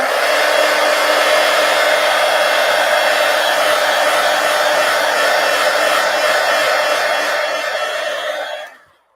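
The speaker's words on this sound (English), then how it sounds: "Let me hit this with the heat gun before I go over it with the yellow" A heat gun blows a loud, steady, close-up whoosh while drying Posca paint on a coloring book page, running continuously for several seconds before switching off and fading out.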